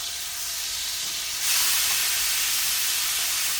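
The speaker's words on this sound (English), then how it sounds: "I'm gonna fry the rest of it." Beef sweetbreads frying in a pan with a steady broadband hiss and sizzle that jumps suddenly louder partway through and then holds, close and continuous with no talking.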